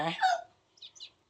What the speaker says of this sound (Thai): แล้วก็ฟังเสียงไก่ขันเสียงไก่ขันธรรมชาตินะคะ